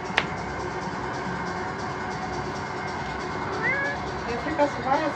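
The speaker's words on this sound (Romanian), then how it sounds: "pisoi care intră pe aici" A kitten lets out a couple of short meows near the end, over a constant low rumble with faint talking, in Ibiza.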